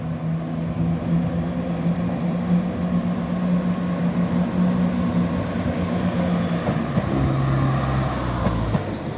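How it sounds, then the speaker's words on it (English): Out-of-service train 170407 passing by on its way to the depot in Edinburgh, a steady rumbling roar with humming engine tones that shift pitch near the end, no talk. "This train's not in service, guys."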